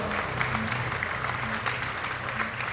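Crowd applauding at the men's gold medal final of an indoor archery World Series event, a steady, dense wash of clapping that holds throughout with a faint low hum beneath.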